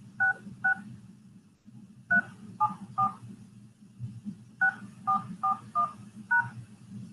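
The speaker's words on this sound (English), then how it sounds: "When finished, press the pound key." Telephone keypad tones from keys being pressed while entering a PIN and then the pound key on a phone call: a series of short, crisp dual-tone beeps in small irregular groups over a low background hum.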